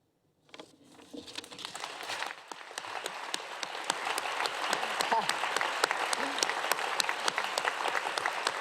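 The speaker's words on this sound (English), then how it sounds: "could you give an enormous round of applause to our actors" An audience at a live literary prize event breaks into applause for the actors, starting after a brief silence and swelling into steady, dense clapping that grows louder and fuller.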